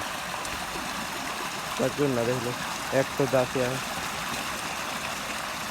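A farm irrigation water pump motor runs while water flows and trickles from its outlet, a steady rushing wash throughout, with someone talking briefly over it.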